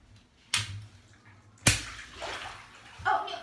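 A giant water balloon bursts with a sharp pop, followed by a second loud burst and a rush of water sloshing and splashing close by in a short, wet sequence.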